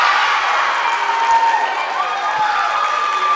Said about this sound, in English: Triton crowd certainly into tonight's game.